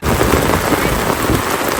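Heavy rain pours down in a dense, loud, steady hiss of drops hitting the ground and surfaces during a downpour near an overflowing stream, with no break in the roar.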